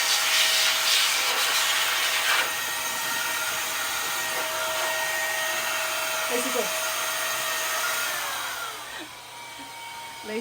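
Steady broadband whooshing of a vacuum cleaner running indoors, loud and continuous, easing slightly toward the end.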